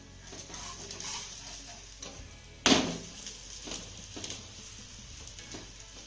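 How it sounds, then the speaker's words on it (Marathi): A Maharashtrian thalipeeth roasts in a little oil on a pan with a soft, steady sizzle. One sharp clatter marks the flip partway through, followed by quieter frying. "हे थालीपीठ एका बाजूने चांगलं भाजून झालं की याला आपण पलटी करून घेऊया"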